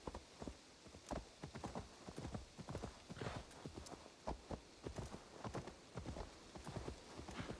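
Steady clip-clop of horse hooves in the video game Assassin's Creed Valhalla plods along in an even walking rhythm, fairly quiet and close, with soft ambient noise underneath.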